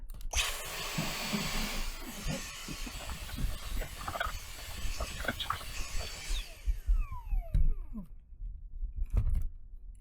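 A cordless Dyson vacuum whirs and hisses steadily up close, its noise broken by rattling and scraping, then winds down with a falling whine near the end.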